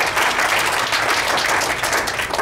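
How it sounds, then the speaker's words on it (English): Sustained, dense applause from an audience at the close of a congressional district debate in Pahrump, a loud, even roar of many clapping hands with no breaks. "Now you can applaud."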